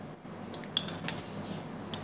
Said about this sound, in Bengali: এখন মিশিয়ে নিচ্ছি ভালোভাবে